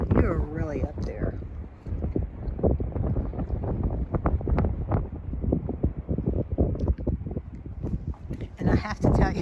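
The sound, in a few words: strong gusting wind at Kinzua Bridge skywalk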